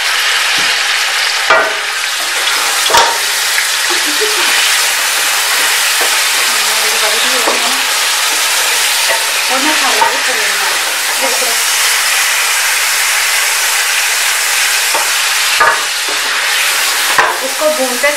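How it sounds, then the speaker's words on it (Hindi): Nalli biryani masala frying in a pot, a loud, steady hissing sizzle with sharp clanks and scrapes of stirring at irregular intervals, close up, with no one talking. "भूनते हैं तकरीबन 5-8 मिनट भूनते हैं"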